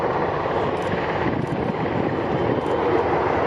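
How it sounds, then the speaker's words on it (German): Bundeswehr military transport helicopters lift off after a tactical troop drop at the ILA Berlin 2018 air show, producing a loud, continuous rotor and turbine roar with wind noise and no pauses. "Nach dem sehr schnellen Absetzen der Kräfte erheben sich nun die Hubschrauber"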